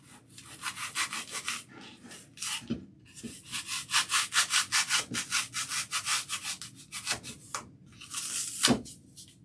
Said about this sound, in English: So I can take a serrated knife and cut this just like I do regular foam.